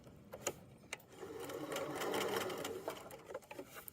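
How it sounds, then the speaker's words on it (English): A sewing machine stitches the side seam of a drawstring backpack, running steadily for a couple of seconds between short, stop-start bursts of stitching, close and clear with no talk. "I'm just going to sew right off the edge and back stitch"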